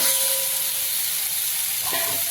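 Water poured into a hot pan of colocasia leaf vegetable sets off a loud, steady steaming hiss and sizzle, close and unbroken for the whole moment.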